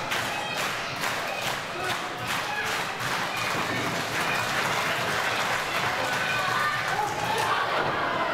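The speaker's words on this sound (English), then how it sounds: "The crowd getting behind Jason Reed." A live wrestling show crowd roars and claps without letup around the ring, a dense, loud wash of cheering with scattered thumps from the action.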